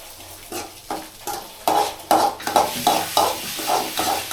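Egg curry stirred in a pan after chili powder goes in: a spatula scrapes in a quick, regular rhythm over a soft sizzle, close and fairly loud, with no talking.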